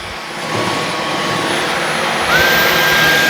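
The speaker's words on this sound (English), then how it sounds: "now when I pull the trigger, the vacuum cleaner part's going to kick on" A Dyson V15s Detect Submarine wet-dry vacuum cleaner runs loud and close in auto mode, a steady whining motor roar that rises in pitch partway through.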